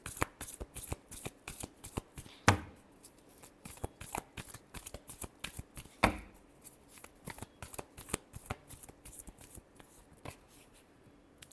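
Tarot cards being shuffled by hand, a quiet, rapid run of papery riffles and flicks with two sharper snaps along the way, close up and with no talking.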